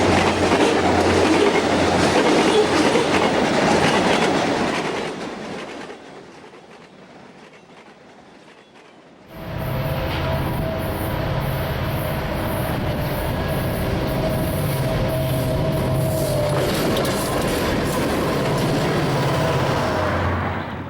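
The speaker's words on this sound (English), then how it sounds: "A westbound with GE and EMD power rolls past the east switch of the siding at Gately" Santa Fe westbound freight train led by GE and EMD locomotives rolling past a siding switch, a loud close rumble of engines and rolling cars that drops briefly, then returns with steady clattering wheels and squealing tones.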